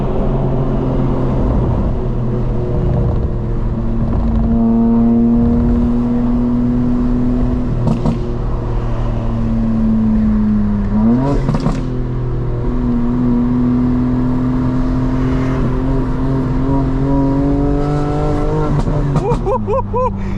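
A tuned 900hp 2025 BMW M4 Competition xDrive engine revving hard and accelerating through gear changes, loud and close from inside the cabin, its rising drone broken by brief shift gaps.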